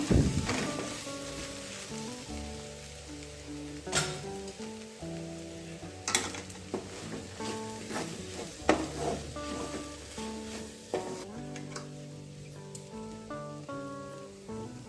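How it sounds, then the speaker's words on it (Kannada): Coriander, cumin and chilli powder masala sizzling in hot oil in a pan for egg sukka, a steady crackling fry broken by clinks of a spoon stirring against the pan, close, with no voices. "ಒಂದು ಕಾಲು ಚಮಚ ಜೀರಿಗೆ ಪುಡಿ ಚೆನ್ನಾಗಿ ಫ್ರೈ ಮಾಡ್ಕೊಳ್ಳೋಣ"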